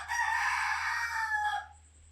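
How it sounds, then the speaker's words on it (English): A home rooster crows once, close and loud, a sustained harmonic-rich call of about a second and a half that trails off, over a low steady electrical hum. "I have a rooster at home."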